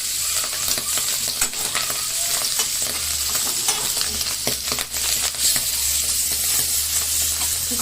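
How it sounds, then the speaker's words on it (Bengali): Pangas fish pieces, coated in chilli, turmeric, salt, coriander-cumin powder and ginger-garlic paste, frying in hot oil with a constant loud crackling sizzle, scattered pops and spits, and occasional stirring scrapes. "মাছটা ভাজা বসালাম।"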